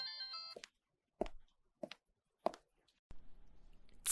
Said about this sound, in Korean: 에리카는 주의를 다른 데로 돌려야겠다는 생각에 여동생의 전화번호를 눌렀다.